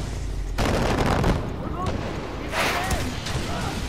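Gunfire and blasts in Far Cry 4 at a custom-built outpost map, bursts of shots and booms hitting hard at intervals over a steady rumbling battle bed, with a voice talking between them.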